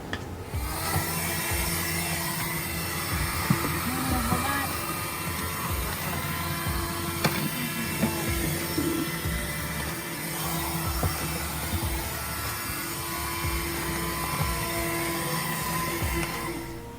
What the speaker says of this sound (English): And as a bonus, vacuum squeegee.